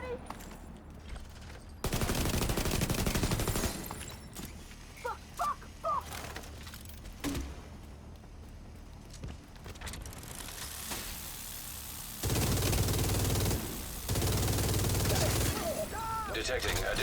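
Bursts of gunfire while aiming for headshots in a shooter video game, with several loud sustained volleys separated by quieter stretches of scattered shots and game ambience, and talking heard in places.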